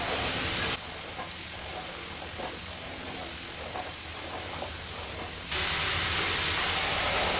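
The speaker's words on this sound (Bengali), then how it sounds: "আর ভাজার সময় কন্টিনিউ এইভাবে নাড়াচাড়া করতে হবে যাতে চারিদিক দিয়ে ভালো করে লাল লাল হয়ে" Danadar sweets deep-fry in hot oil with a steady, close sizzling hiss that never stops. Its level shifts abruptly twice.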